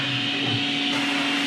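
A wall-mounted VacMaster vacuum system sucks up dryer lint with a steady, droning motor hum and airy suction noise, close and constant throughout the short stretch.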